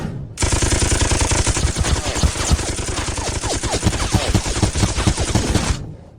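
Rapid, sustained volleys of gunfire from a line of soldiers firing in unison, loud and dense for several seconds, a continuous crackling barrage with no voices heard.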